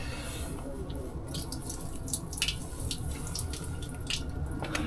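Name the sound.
pouring out collected rainwater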